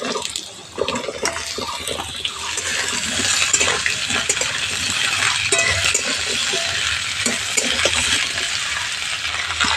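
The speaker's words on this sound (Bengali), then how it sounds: "তো তেল গরম হয়ে গেছে, কেটে রাখা আলুগুলো প্রথমে ভেজে নিচ্ছি।" Cut potatoes frying in hot mustard oil in a kadai, a dense steady sizzle with scattered clinks and stirring scrapes, close and continuous.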